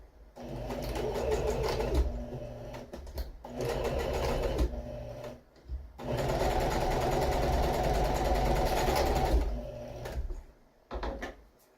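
A sewing machine running a straight stitch on a pillow cover for a couch makeover, a steady close whirring hum in three long runs separated by short pauses.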